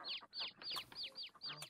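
Chicks in Farming Simulator 19 peep in quick, high chirping bursts, about six short calls in a row, clear and close, with no talking over them.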